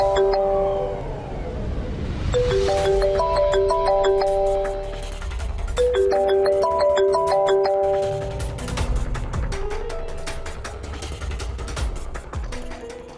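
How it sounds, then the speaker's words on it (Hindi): A mobile phone rings with a loud, melodic electronic ringtone, the same tune looping twice in close succession indoors in the morning, with no one speaking over it. "किसका फोन आ रहा है सुबह सुबह?"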